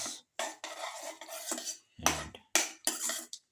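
Utensil scraping and clinking against a cooking pot while yogurt is stirred into winter melon and carrot, in several short bursts with brief pauses between them and one louder knock near the middle.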